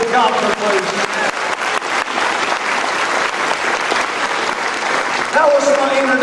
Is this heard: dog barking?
no